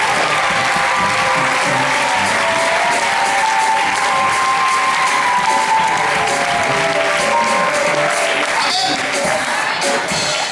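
An audience at a church choir concert applauds loudly and steadily, a dense wash of clapping with faint cheering woven through, sustained throughout.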